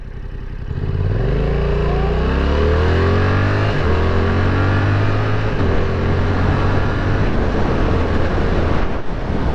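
A Yamaha R7 motorcycle revs up hard and climbs through the gears without the clutch, the engine note rising in steps with brief dips at each shift, loud and close against strong wind noise.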